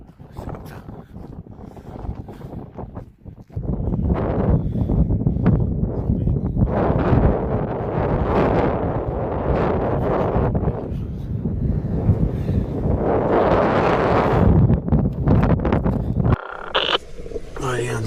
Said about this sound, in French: quand il y a du vent comme ça